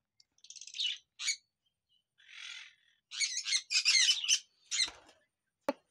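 Lovebirds and conures at a bird farm let out a series of sharp, close chirps and squawks in separate bursts with short quiet gaps between them.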